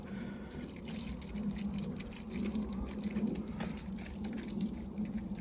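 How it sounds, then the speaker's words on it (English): Ordinary household vinegar poured out over green-stained paving slabs outdoors, a steady close splashing gush with dripping that runs for several seconds, with no talk. "today I'm just going to chuck bog standard ordinary vinegar"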